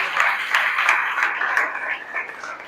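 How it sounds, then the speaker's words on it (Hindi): Audience at a Hindi-language church sermon clapping in a brisk, moderately loud burst that gradually thins out, with a voice partly mixed in. "तालियां बजा दे खुदा के लिए।"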